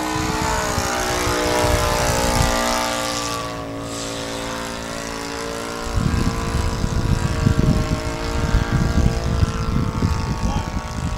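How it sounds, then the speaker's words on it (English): An Extra aerobatic RC model airplane on its maiden flight takes off and flies with a steady, buzzing high-pitched propeller whine that wavers in pitch, over loud gusty wind rumble and no speech. "Whoa, that was a nice graceful takeoff."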